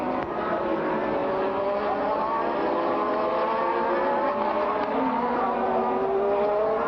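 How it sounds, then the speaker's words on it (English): Formula 1 cars racing at the 1987 Portuguese Grand Prix, including a Ferrari and a Ford-engined Benetton, their high-revving engines blending into a loud, continuous scream with rising and falling pitch as they pass, with no talk over it. "There is the battle. Alain Prost looking for a way through Alboreto's Ferrari"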